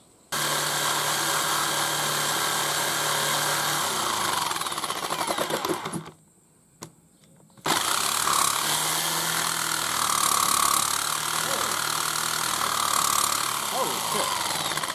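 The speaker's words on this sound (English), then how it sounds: "I got some of these jigsaw blades that say special for aluminium." A jigsaw fitted with aluminium-specific blades cuts aluminium motor mounts for a DIY CNC router, giving a loud, harsh buzzing rasp that runs continuously, stops briefly for about two seconds, then resumes just as strongly.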